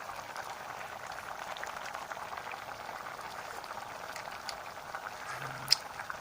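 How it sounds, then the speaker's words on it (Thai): A pot of sour bamboo-shoot curry with snakehead fish bubbles in a steady, soft, continuous simmer. There is a single brief click near the end and no talk. "นี่ตัวนี้เดือดแล้วนะครับ"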